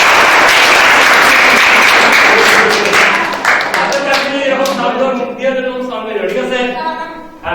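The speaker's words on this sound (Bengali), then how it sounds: "আবার একটা হাততালি" Loud group clapping at a Tripura theatre workshop, a dense burst of many hands that thins into scattered separate claps and fades out over several seconds, with voices murmuring near the end.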